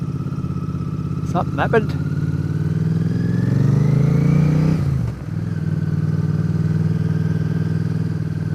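Motorcycles ride past on a road during a Sunday ride home on a Bear 650, with loud engine drone rising and falling in pitch as they pass close by, and a rider talking over the noise.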